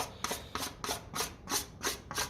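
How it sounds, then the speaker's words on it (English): Leftover JB Weld epoxy scraped up with a tool while repairing a 1957 Ferguson FE35 TVO radiator, seven evenly spaced rasping strokes close by in a quick steady rhythm. "I'm just scraping up the last of this JB weld."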